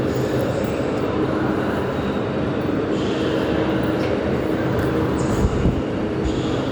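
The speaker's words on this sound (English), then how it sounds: "Here's the train." A passenger train pulls into a platform at Jerusalem's train station, a loud, steady rumble of wheels and cars rolling in continuously, with faint metallic squeals near the end and no talking.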